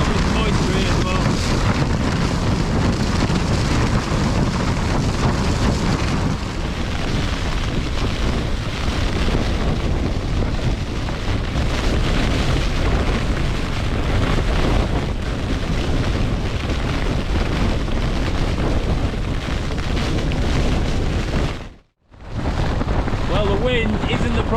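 Storm-force wind roaring across a snowy winter summit camp on Blencathra, a loud, constant buffeting rush that batters the microphone almost without pause, dropping out only for a moment near the end.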